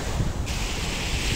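Sea waves at the beach of Saint-Jean-de-Luz, a brief burst of broadband surf wash mixed with wind rumble on the microphone, steady and fairly loud with no talking.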